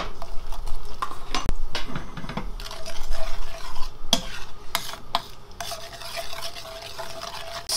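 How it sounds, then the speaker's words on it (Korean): A spoon stirs grain powder and a small cup of water into a paste for a homemade face wash, giving steady close scraping and swishing in a bowl with a few sharper knocks against the side. "물은 작은 한 컵을 넣어줄게요. 살살 저어주면서"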